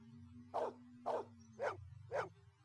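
A dog barks four times in Blade Runner, PC game, evenly spaced sharp barks over a low steady hum of background ambience.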